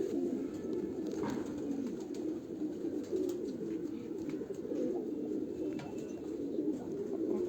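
Several pigeons cooing continuously, low soft burbling calls overlapping nearby, with faint background noise and no talking.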